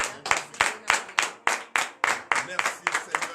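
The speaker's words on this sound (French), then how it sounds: "je vous demande de vous tenir sur vos pieds et ensemble donner de vives acclamations." A church congregation at a morning prayer in Benin claps in a steady, rhythmic beat, about three sharp claps per second, loud and close, continuing evenly throughout.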